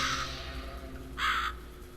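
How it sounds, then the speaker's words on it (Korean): A crow caws twice as it flies past in a horror video game set in an underground space, with one short call and a louder, closer one, over a low ambient hum and no speech. "까마귀 한 마리 지나갔고요"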